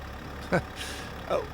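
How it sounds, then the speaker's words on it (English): A 2021 Chevy Tahoe High Country with a Duramax diesel engine grumbles low and steady in the background, with a couple of brief, sharper sounds over the top. "With the grumble of the diesel engine in the background"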